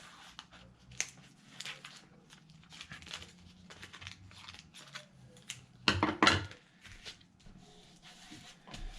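Scissors trimming decal transfer film apart for custom WR250X supermoto fork cover graphics, a quiet close series of light snips and handling rustles, with a louder cluster of crisp cuts near the end.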